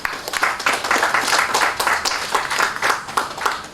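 An audience at the official opening of an analytical service laboratory claps steadily and loudly, a dense patter of many hands swelling in rhythmic bursts throughout, with no talk over it.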